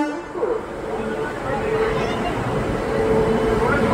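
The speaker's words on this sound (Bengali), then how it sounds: "ফাইনালি এতক্ষণে ট্রেন দিয়েছে, আমাদের ট্রেন ঢুকছে।" A train pulls into a station platform and sounds a drawn-out horn, a steady tone over the rumble of the arriving train and a low background murmur of the crowd.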